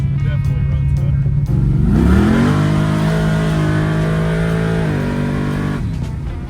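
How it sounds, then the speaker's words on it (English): A car engine climbs hard at wide open throttle, its revving pitch sweeping upward, holding loud and close for a few seconds, then easing off. "Now that we're getting wide open throttle, the car makes much more power even just on motor."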